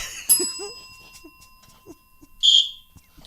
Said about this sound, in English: It's the bell.